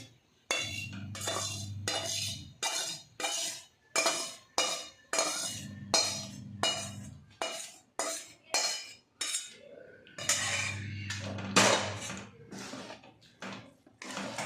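Spoon scraping and clinking in a pan as roasted urad flour is stirred into a gum mixture for winter adadiya pak, a repeated rhythmic series of close metallic scrapes with brief pauses, no talking.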